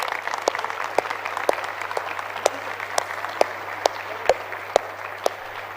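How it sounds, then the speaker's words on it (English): Audience applauding judges and mentors at an event in Jawaharlal Nehru Stadium, New Delhi: a sustained, fairly faint patter of clapping with a few sharper individual claps standing out near the front. "Can you just stand up and give a big round of applause, please?"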